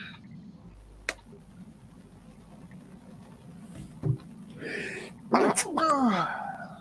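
A single sharp sneeze bursts out close by, followed by a voice talking.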